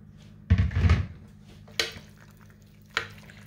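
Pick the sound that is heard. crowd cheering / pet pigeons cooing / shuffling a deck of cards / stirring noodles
stirring noodles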